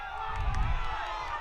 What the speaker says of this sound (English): And the crowd wanting a handball.